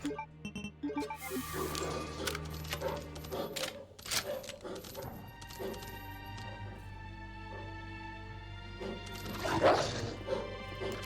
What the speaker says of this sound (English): These fucking dogs!